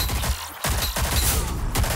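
Gunfire in the shooter game Rogue Company, a dense run of loud shots with sharp cracks spread across two seconds.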